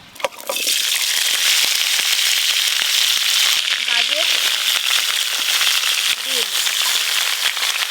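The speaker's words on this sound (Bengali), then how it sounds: "এবার এই বাকি সবজিগুলো একসঙ্গে হালকা করে ভেজে নেব" Mixed vegetables frying in hot oil in a home kitchen, a steady loud sizzle and crackle that runs without a break, with brief soft voice sounds partway through.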